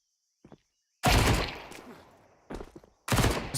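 Counter-Strike gunfire from an MP9 submachine gun and a Desert Eagle pistol, heard as loud, sharp bursts with short silent gaps between them and no talking over them.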